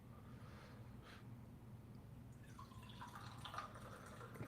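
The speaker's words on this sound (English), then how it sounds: "Pouring myself some more tea." Tea trickles into a cup, a faint, close pour whose gurgling tone rises as the cup fills, over a soft room hum.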